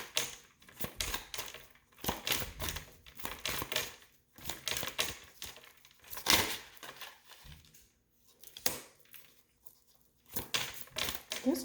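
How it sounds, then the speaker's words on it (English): Tarot cards being shuffled and pulled from the deck, heard as soft irregular riffling, flicking and rustling in short bursts with brief pauses between them, close and fairly quiet. "I need to pull all of the cards and clarifiers so I can give you your message"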